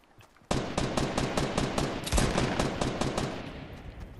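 Rapid automatic gunfire from a battle royale video game, a sudden burst that keeps going as sustained fast repeating shots, loud and close with no talk over it.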